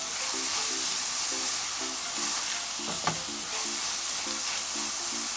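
Pepper and green onions stir-fry in a hot pan with a steady, close sizzle, and a few light scrapes and knocks of the utensil mixing them come through.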